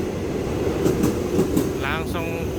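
Commuter train JR 205 of eight cars running on rails between stations near Pondok Cina, a steady loud rumble with rhythmic wheel clatter and brief squealing tones, heard from inside the carriage.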